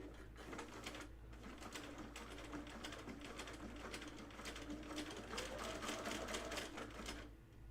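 Up close, a sewing machine sews a jeans buttonhole with thick thread in one continuous, dense, rapid mechanical chatter that holds steady throughout with only slight swells, no voice over it.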